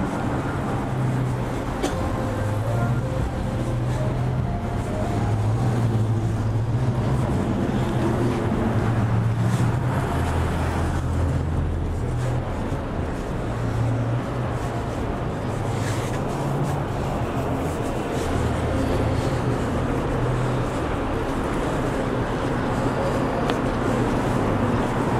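Street traffic at Victoria and Queen Street in downtown Toronto on New Year's Eve, a continuous rumble of passing cars and engines with a broad roadway hiss, steady over the whole stretch with no clear talk.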